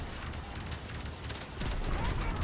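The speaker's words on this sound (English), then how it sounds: "I mean my friend's lasers that I'm firing" Laser weapons fire in a space video game as a continuous, noisy barrage of rapid shots. The volley grows louder and heavier toward the end.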